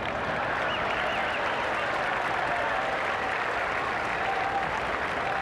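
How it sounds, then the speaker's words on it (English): A tennis crowd applauds Andre Agassi during the 1995 Cincinnati semifinal against Enqvist, a steady, even roar of clapping from a large stadium audience that holds without pause, with faint murmurs in the mix. "the applause here for Agassi will give you some idea of the popularity of this man"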